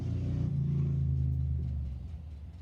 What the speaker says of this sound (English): I don't understand why they have to have cars that freaking loud when they're not going anywhere fast.